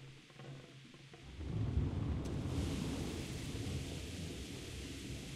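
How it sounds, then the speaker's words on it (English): Rain and rolling thunder in the video game Kingdom Come: Deliverance: a quiet start, then a deep rumble swells into a steady, dense wash of rainfall with no voices. "it's raining"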